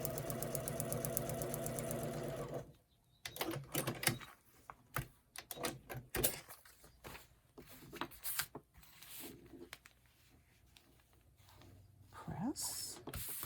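Sewing machine stitching a paper-pieced quilt block of a corgi beach design, a steady rapid mechanical whir for a couple of seconds, followed by clicks and handling noises with faint talking.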